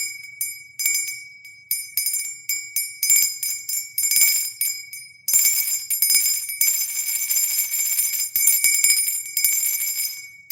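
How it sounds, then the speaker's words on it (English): Small bells jingling and tinkling in repeated bursts, loud and close, with irregular shakes at first and then a denser, continuous ringing in the second half, with no voices. "If you had the bells up right now, no entity could withstand that frequency."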